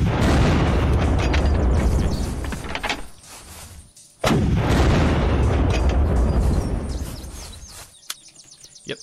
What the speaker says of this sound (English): Yep, see, used 8 tank cannon missiles, and I didn't even get halfway through.